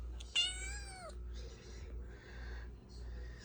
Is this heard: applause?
no